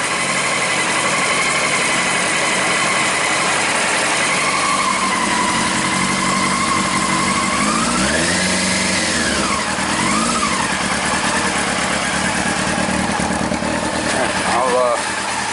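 Yamaha R6 sport bike engine idling close by, a steady buzzing drone with a couple of brief throttle blips partway through, a voice speaking over it now and then.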